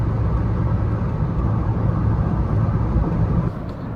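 A Honda Jazz driving at the speed limit with the aircon on, a steady loud cabin rumble of engine and road noise that drops slightly near the end.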